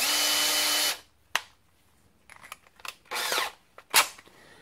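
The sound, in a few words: drilling metal with 8mm drill bit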